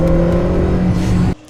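A fully prepared Honda Integra Type R with a forged VTEC engine revs loudly and close up, a sustained high engine note that cuts off abruptly near the end.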